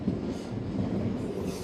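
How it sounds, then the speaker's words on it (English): A train rolls over the tracks in Toronto near the waterfront, a steady, continuous low rumble that fills the whole stretch with no talking. "We have a train."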